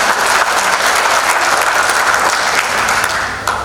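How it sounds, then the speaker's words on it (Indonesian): An audience at a formal address applauds, a loud, dense, steady round of clapping that carries on throughout before easing slightly at the end. "Tepuk tangan buat Tuhan."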